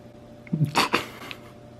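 A single short sneeze, close and fairly sharp, in an otherwise quiet room.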